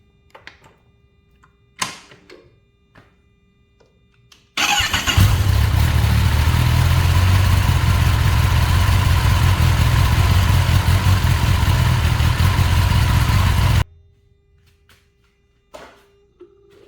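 A 2024 Kawasaki Ninja ZX-10R sportbike engine cranks and catches, then idles loudly and steadily for about nine seconds before cutting off, with quiet handling noises and clicks before and after.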